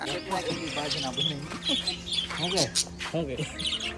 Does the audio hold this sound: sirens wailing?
no